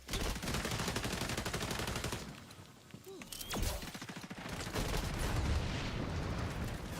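Gunfire and a grenade blast in the XDefiant shooter game, with bursts of rapid automatic shots, a short lull, a sharp boom, then more dense shooting and mechanical clatter, with no voices.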